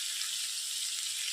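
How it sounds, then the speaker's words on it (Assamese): Onions frying in a pan for a mixed bean paneer dish, a steady hissing sizzle heard up close and alone. "অলপ সময় মই এখিনি ব্ৰাউন নোহোৱালৈকে ভাজি ৰাখিম"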